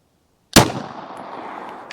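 A 9mm Sig M17 long-barrel pistol fires a single +P 124-grain V-Crown round into ballistic gel, one sharp, loud crack after a brief silence, followed by a fading echoing tail.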